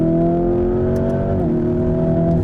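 Lamborghini Urus super SUV with a turbocharged engine bouncing off the rev limiter, a loud close sustained high-revving drone whose pitch holds steady then dips briefly midway before recovering.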